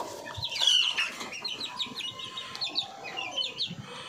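Brahma chickens cluck and chirp nearby in a coop, a run of irregular clucks and higher tweeting calls over soft background noise.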